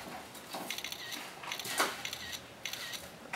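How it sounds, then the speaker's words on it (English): A rapid series of soft electronic smartphone camera shutter clicks repeats in quick bursts, faint and close, with light handling noise between. "Now that noise you're hearing is the actual photos being taken."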